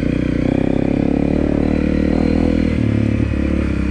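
A 2018 Honda CRF250L dual-sport motorcycle rides off road through forest over roots and wet dirt, its engine droning steadily and loudly up close with shifting revs, mixed with clattering and scraping from the terrain.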